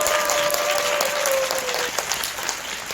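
Audience applause at a seminar lecture, a dense patter of clapping hands that holds fairly steady and then tapers slightly, with a brief voice underneath.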